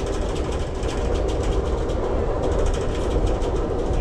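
Amtrak passenger train on the Chicago to New Orleans route through Mississippi, a steady loud rumble of rolling wheels and car noise with faint rhythmic clicking, continuous throughout.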